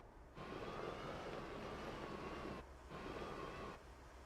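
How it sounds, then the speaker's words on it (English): A train in the Astroneer video game rumbles along in a steady, broad roar with a faint tonal whine, dropping out briefly twice, quiet overall and with no talk. "there's a train in this game"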